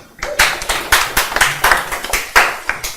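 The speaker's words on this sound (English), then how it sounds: "Give him a round of applause." Audience claps and applauds at a business event, a burst of many hands with some louder individual claps standing out, steady and fairly close throughout.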